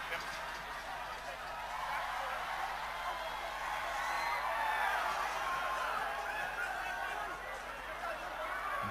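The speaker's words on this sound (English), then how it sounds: "the crowd's getting excited." Stadium crowd at a Samoa versus Georgia rugby union match, a steady broad roar of many voices swelling slightly midway, distant chatter and cheering throughout with no break.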